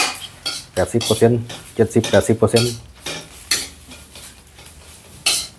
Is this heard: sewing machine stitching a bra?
no